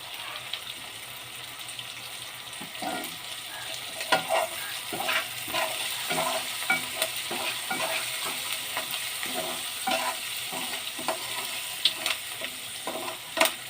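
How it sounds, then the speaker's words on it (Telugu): A spoon stirs food in a pan with salt and turmeric, producing repeated scraping taps over a soft, continuous sizzle of frying. "సాల్ట్ వేసుకొని కొంచెం కలుపుకొని కొద్దిగా పసుపు వేసుకోవాలి."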